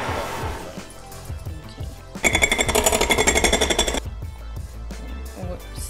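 A blender grinds granulated sugar into powdered sugar, a loud dense whirring roar for about two seconds between quieter rattling kitchen noise.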